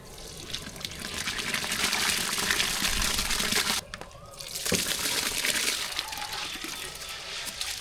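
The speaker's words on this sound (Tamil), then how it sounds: "பார்த்து தண்ணீர் எல்லாம் கொதிக்குது" Water bubbling and churning in a cooking pot on the stove while making vegetable pulao, a steady rushing hiss with a brief drop partway through before the boil resumes, close and alone.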